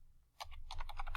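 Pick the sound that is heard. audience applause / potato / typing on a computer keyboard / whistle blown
typing on a computer keyboard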